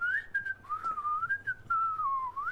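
A person whistles a single sliding, wavering tune, clear and close, with no talking around it.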